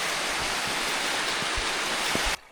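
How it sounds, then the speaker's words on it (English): Glacier meltwater stream on a North Cascades climbing approach rushes in a steady, close, full-bodied wash of running water, ending abruptly. "Look at all this water coming down from the glacier."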